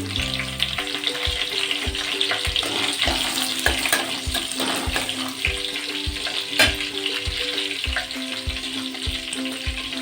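Dried chillies sizzling and frying in a pan for a potato and pea fry, with a steady crackling hiss and rhythmic scraping stirs throughout.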